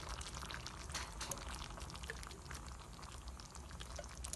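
Coconut milk is poured and mixed into a chicken curry, a steady liquid rush with faint bubbling that runs continuously and fairly quietly throughout.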